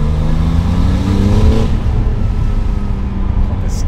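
A Porsche 993 Turbo engine roars loudly and steadily, rising in pitch as it accelerates, with deep harmonic rumble throughout and no voices.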